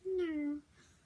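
A kitten lets out one clear, drawn-out meow that slides downward in pitch and then fades, leaving quiet room tone.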